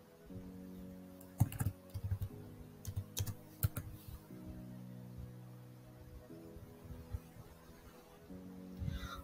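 Computer keyboard keys clack in short bursts of typing, close and crisp, over a low steady hum, with brief pauses between runs of keystrokes while a name is entered into school software.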